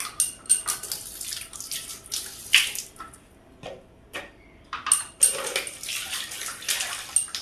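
Tap water runs in a sink to wash food before cooking, an intermittent splashing and trickling close by at moderate level, with brief pauses between bursts and no talking.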